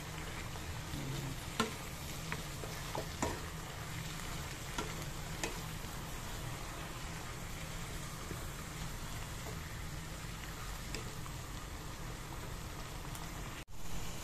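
Mushrooms, onion and chili leaves sautéed in a pan, giving a faint, continuous crackling sizzle with occasional soft stirring clicks and a sharp knock near the end, with no talking.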